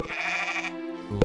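A sheep bleats in the Harvest Moon farming video game, one wavering game-style bleat over about a second, then a brief brighter note at the very end, with no talk.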